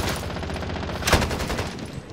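Hostile automatic gunfire in Call of Duty: Modern Warfare, a dense steady rattle of rapid shots running throughout, with one louder, closer burst near the middle.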